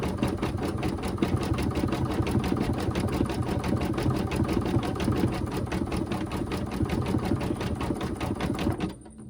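An embroidery machine stitches a Sweet Pea Easter table runner block with a fast, even mechanical chatter and hum, loud and close, running steadily before cutting off abruptly near the end.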